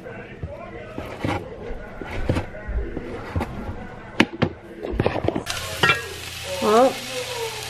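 Meat with mushrooms and onions fries in a pan, hissing and crackling beneath intermittent close voices, with scattered utensil clicks and scrapes and a brighter, louder sizzle near the end.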